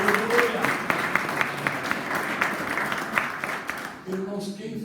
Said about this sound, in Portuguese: você dá uma salva de palmas